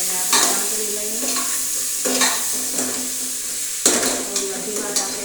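Ginger garlic paste sizzles in a hot pan while a spoon stirs it in several scraping bursts, close and fairly loud, cooking for a carrot and val bean vegetable dish, with no voices.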